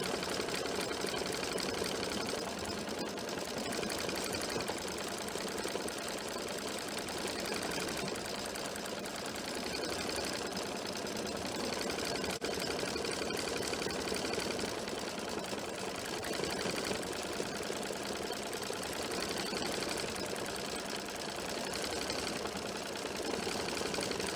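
An embroidery sewing machine stitches continuously, its needle mechanism producing a fast, steady mechanical chatter at close range, unbroken and fairly quiet, with no voices over it.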